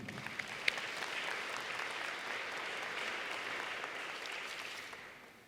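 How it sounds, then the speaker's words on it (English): An audience gives the selection panel a round of applause at a Teacher of the Year chamber event; the clapping is soft and distant, sustained evenly for several seconds and fading at the close. "Let's give them a round of applause."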